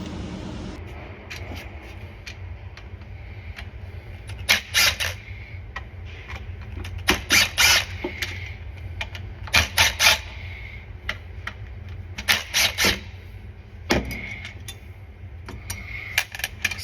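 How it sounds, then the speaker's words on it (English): Torx screws being removed from a valve on a 2022 Mazda, heard as repeated close, crisp metallic clicks and ratcheting ticks in short bursts over a low steady background hum. "So you're gonna take this off with these Torx bits."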